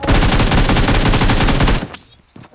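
Rapid automatic gunfire from a shooting video game rattles out in a continuous loud burst for nearly two seconds, then cuts off into a few faint clicks and a short electronic tone.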